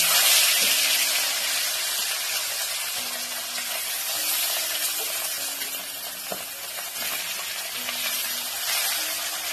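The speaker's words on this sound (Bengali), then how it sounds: "বাদ বাকি যে মাছটা আছে সেটাও ভেজে নেব।" Pieces of rohu fish frying in hot oil, a dense and continuous close-up sizzle with a few soft knocks and clicks from the pan now and then. The hiss stays steady and loud throughout, with no talking.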